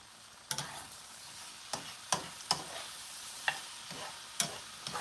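Onions and celery sizzling and frying in a pan for stuffing, a steady soft hiss broken by several sharp stirring clatters at irregular intervals, close and fairly quiet.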